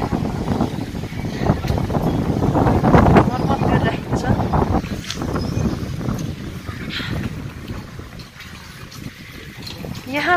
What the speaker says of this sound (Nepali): लास्टै हावा